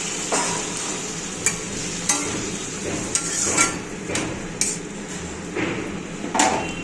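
Salt and turmeric water is poured into a frying pan, raising a steady sizzle, with scattered sharp clinks and scrapes of a utensil against the pan at irregular intervals.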